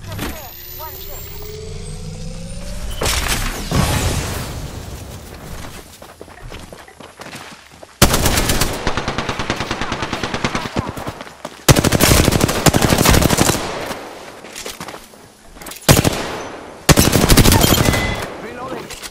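Automatic gunfire from an Apex Legends match rattles in several loud, sustained bursts separated by short pauses, with a player talking over and between the shots.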